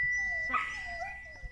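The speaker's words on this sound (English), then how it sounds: "Oh, the dog's whining at the window." A dog whines at a window, a thin high sustained whimper with a short rising yelp, fairly quiet indoors amid light household noise.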